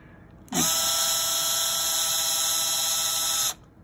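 A power tool whirs steadily for about three seconds, close and loud, as it tightens fittings on a pneumatic hose mount, starting and stopping abruptly.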